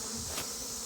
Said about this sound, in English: Let's take these bees off and try to get away from them a little bit.